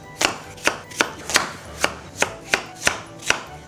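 A knife chops peeled potatoes into pieces on a cutting board for braised potatoes, producing nine sharp, evenly spaced thuds in a steady rhythm, close and loud with no talking.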